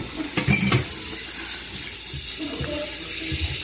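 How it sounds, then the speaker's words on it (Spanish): Water runs steadily into a cooking pot holding octopus with pepper, garlic and a few bay leaves, a continuous close splashing pour with a brief clatter near the start. "le vamos a echar agua."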